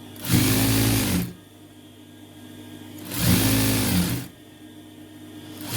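Sewing machine stitching a decorative hand design, running in two loud, steady whirring bursts of about a second each, separated by a quiet pause.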